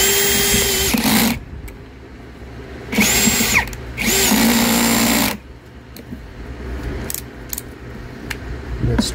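A power drill drives bolts into a Spruce & Spring Rowena dining chair, with three close, loud bursts of whirring that stop and restart as the bolt tightens, plus faint clicks and handling noise between runs.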